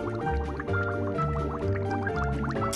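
Cartoon water sloshes and drips as soap is rinsed off a number in a children's counting game, bubbly liquid sounds over a steady musical background.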